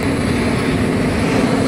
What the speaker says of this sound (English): And there's an airplane here.